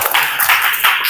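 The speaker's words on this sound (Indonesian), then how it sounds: "tepuk tangan untuk kelompok 4" Brief burst of hand clapping from a small classroom group, applauding group 4 after its presentation during a teacher-training performance assessment in Islamic religious education; steady, close, dense clapping with no talk.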